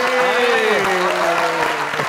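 Studio audience applause on a comedy talk show, continuous crowd clapping under voices talking with tonal sound.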